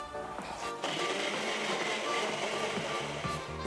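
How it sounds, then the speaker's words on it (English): Electric blender whirring steadily as it purées a Tequila Rose strawberry shake cocktail, a loud continuous motor drone with a brief change near the start, heard alone without talk. "Now let's get out our blender and blend this up."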